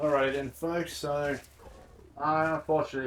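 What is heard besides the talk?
No everyday noises stand out.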